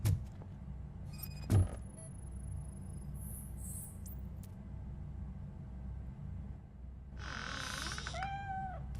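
Cat in the RoboCop: Rogue City video game, with a short meow after a low hum and thud, then a longer, louder wavering meow near the end over steady background rumble.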